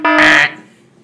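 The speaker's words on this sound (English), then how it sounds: "suddenly, there's an alarm on her wrist." A wrist device sounds an alarm in a Star Wars film: a loud, brief electronic tone swells into a harsh burst and then fades away within a second.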